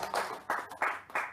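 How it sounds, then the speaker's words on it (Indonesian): An audience claps in a short spell, heard as four quick bursts of handclaps, fairly faint and close together. "Tepuk tangan dulu dong."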